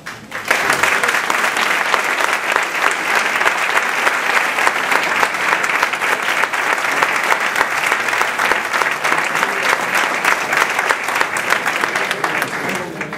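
Dense, steady audience applause fills the room at a candidacy presentation, continuous and loud for the whole stretch with no gaps and no voices standing out.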